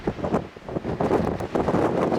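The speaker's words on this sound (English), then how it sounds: "It's very windy" Wind gusts buffet the microphone in a steady, rumbling roar at a sandstone canyon in Zion National Park, rising and falling slightly throughout with no voices.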